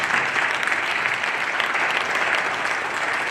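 Members of a legislature applaud a school's robotics and coding team, a dense, continuous burst of clapping at a steady level with no one speaking.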